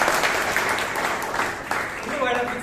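Moderate applause at a Toastmasters club meeting in Bangalore as a past president is welcomed, with modest clapping running under a speaking voice throughout.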